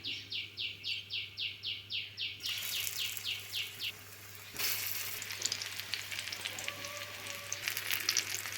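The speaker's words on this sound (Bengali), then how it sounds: "এঁচড়ের পিসগুলো ভাজার জন্য আমি গ্যাসে কড়াইয়ে তেল বসিয়েছি।" Jackfruit pieces frying in hot oil in a wok on a gas stove give a steady, close sizzle, with a bird chirping in repeated bursts in the background early on and no talk.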